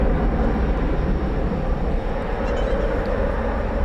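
A Cathay Pacific airliner is pushed back at Dallas Fort Worth airport at night, a loud steady rumbling roar of engines and ground machinery holding constant throughout, with no voices.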